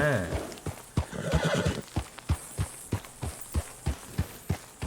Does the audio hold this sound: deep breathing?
no